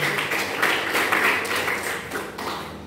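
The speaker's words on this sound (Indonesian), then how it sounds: "Beri tepuk tangan buat semuanya." A classroom of students claps steadily for a few seconds during an accounting lesson, with a dense, even patter of many hands and no pause, fairly close and loud.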